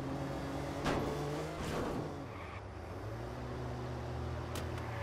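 A car is driven in the video game Watch Dogs, its engine whining and revving as gears shift, with a couple of sharp transient hits, steady and moderately close throughout, with no talking.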